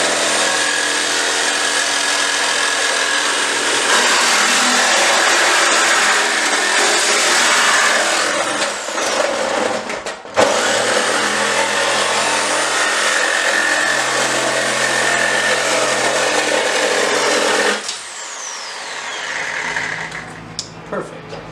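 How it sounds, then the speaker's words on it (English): Power saw with a Milwaukee Torch blade cutting on a Toyota pickup during a 5.3 Vortec engine swap, a loud steady whining buzz held for long stretches, with a brief stop midway and a quieter tail at the end. "still using the Milwaukee torch blade. Awesome blade, cuts through this like butter."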